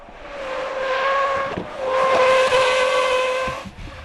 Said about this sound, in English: Here's how a good tire performs in our avoidance maneuver test.